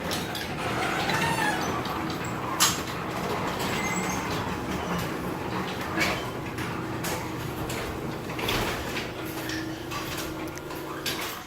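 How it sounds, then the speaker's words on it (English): A newly installed garage door opener runs with its motor barely audible, while the door panels rumble and rattle along the track and the spring creaks, a steady moderate clatter with occasional clicks throughout. "You can barely hear the motor, you only hear the door and the spring."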